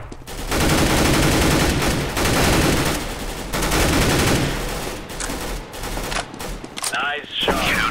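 Rapid gunfire from Counter-Strike: Global Offensive, loud and close, with sustained automatic bursts and individual shots running through the whole passage before it tapers off near the end.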